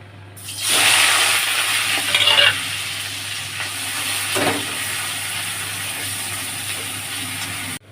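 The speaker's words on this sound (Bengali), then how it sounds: "এবার আমি কড়াতে পেঁয়াজ দিয়ে দেবো।" Onions hit hot oil in a wok with a sudden loud sizzle that settles into a steady, close hiss of frying, broken by a few stirring scrapes.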